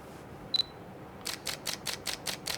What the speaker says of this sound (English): Oh, the shutter is very soft. Strange sounding shutter.